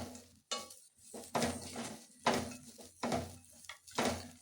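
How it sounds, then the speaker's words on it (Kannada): Grated coconut fries in a pan while a spatula scrapes and stirs in five rhythmic bursts of metallic scraping and clatter, with light sizzling underneath between the strokes. "ಕೊಬ್ಬರಿ ತುರಿ ಹಾಕಿ ಚೆನ್ನಾಗಿ ಫ್ರೈ ಮಾಡ್ಕೊಳ್ಳಿದ್ದಾನ"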